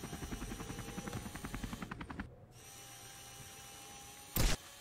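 A rapid rhythmic chopping of video game helicopter rotor blades, from The Henry Stickmin Collection, close and steady, cuts off midway and is followed by low hum and a short loud burst.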